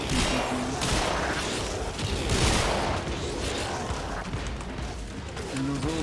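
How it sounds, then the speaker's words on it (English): Rapid gunfire and weapon blasts in the video game Warframe during the boss fight against Ambulas, a dense continuous barrage of shots and impacts filling the scene with steady game noise. "Alright, we're gonna shoot these pew pew pews."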